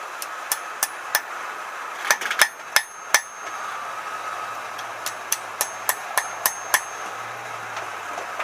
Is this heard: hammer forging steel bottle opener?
yes